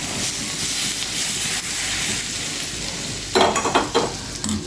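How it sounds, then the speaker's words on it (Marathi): Cumin seeds crackling and sizzling in hot oil as a tadka tempering for raw mango chutney, a steady loud hiss with brief spattering bursts toward the end, close and without voices. "आपल्याला जिरे टाकून घ्यायचे आहेत त्याच्यामध्ये आणि ह्याच्यावर असा तडका देऊन घ्यायचा"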